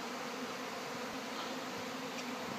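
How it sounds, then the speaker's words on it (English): A steady, dense buzz of bees hums without pause, close and continuous, with no voices. "We've got bees landing on me."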